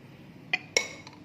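Crushed ice drops into a bowl for melon cream bread dough, giving two or three sharp, close clinks in quick succession against a quiet background.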